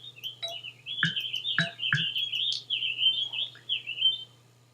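Clear, bright video game bird chirps and warbling calls repeat over a low steady hum, with a few sharp clicks mixed in.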